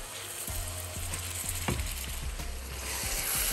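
Minced meat (keema) fries in a pan with a steady, close sizzle, while a utensil stirring it makes rhythmic scraping and clicking taps throughout.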